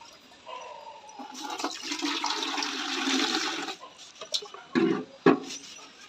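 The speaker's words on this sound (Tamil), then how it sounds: "ஒரு மூடி இப்போ தண்ணி மிக்ஸ் பண்ணுறோம்" Water pours and sloshes into a container of washing powder, mixing to make foam, a splashing rush for a few seconds, then a few sharp knocks and clatters.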